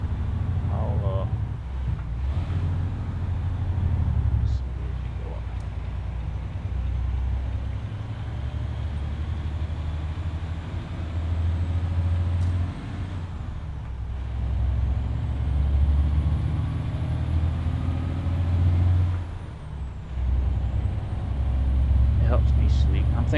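Heavy truck engine in Euro Truck Simulator 2 while hauling a milk tanker, a low steady diesel drone with occasional air brake hisses and wind noise, someone talking over it throughout.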